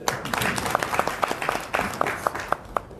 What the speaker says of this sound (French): Veuillez l'acclamer, s'il vous plaît.